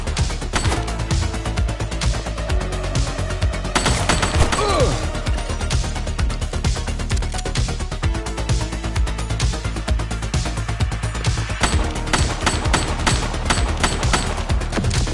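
Dense, continuous gunfire from The Precinct, a police video game, with rapid bursts and cracking shots layered over a busy, loud mix, with occasional shouted voices.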